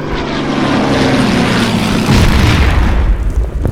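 A Fairey Battle propeller plane flying in the war game Order of Battle: a loud, continuous droning engine roar that swells partway through, with a deep boom mixed in.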